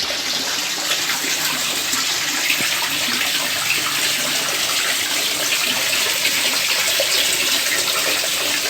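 Water drains steadily out of a backyard fish pond for pomfret farming, a continuous broadband rushing gush at even loudness throughout, with no voices.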